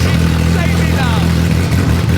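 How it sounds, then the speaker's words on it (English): A Ferrari engine with no exhaust fitted roars steadily at idle, loud, harsh and unmuffled, filling the whole clip with a deep rumbling drone. "the Ferrari starts up and runs first time"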